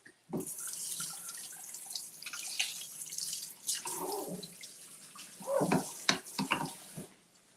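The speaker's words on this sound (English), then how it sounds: "Hold on, wash my hands." Water runs from a kitchen tap as hands are washed at the sink: a soft, continuous splashing stream with irregular louder splatters as the hands move under the flow.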